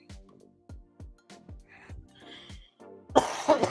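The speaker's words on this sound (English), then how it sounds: "Excuse me for the cough." Soft speech runs through, then a sudden harsh cough bursts out near the end, noticeably louder than the talking.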